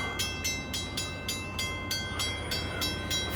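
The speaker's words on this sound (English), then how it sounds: "this is NS 143, which is a manifest train." A Norfolk Southern NS 143 manifest freight train rolls past close by, its wheels clacking over rail joints in a steady, evenly spaced rhythm of loud clicks above a rumbling hum.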